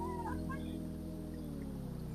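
A sick chicken gives a short, drawn-out vocal call over a steady background hum, close by and moderately loud.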